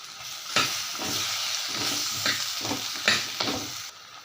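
Spoon scraping and stirring through a simmering village-style prawn curry in a pan, with a steady soft sizzle and a few louder scrapes at irregular intervals, close up and without talk.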